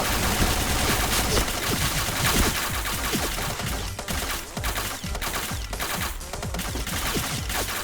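Rapid bursts of automatic gunfire ring out from a G11 rifle in the shooter game Point Blank. The shots come in dense, continuous volleys with sharp repeated cracks and stay loud throughout, with no voice over them.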